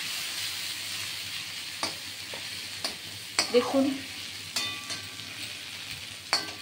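Malabar spinach (pui shak) frying in a pan gives a steady soft sizzle with several sharper stirring clatters, and someone speaks briefly over it.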